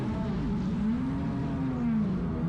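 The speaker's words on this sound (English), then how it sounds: "listen to the roar of the engines." Formula 1 cars at Zandvoort during a race weekend, engines roaring steadily from a distance with a rising and falling whine as they pass around the circuit.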